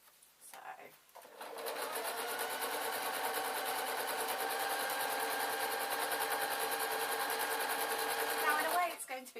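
A sewing machine stitches denim from skinny stretch jeans, running in one steady, loud, even whir for about eight seconds before stopping, with a faint click at the start.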